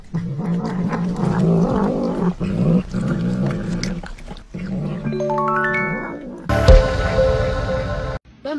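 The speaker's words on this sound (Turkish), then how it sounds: "Mısır yiyen kedi bu sefer tercihini biberden yana kullanmış." A cat eating a pepper, with loud close meows and growly caterwauling vocalizations in bursts, accompanied by a rising musical tone sequence and a sharp ding partway through.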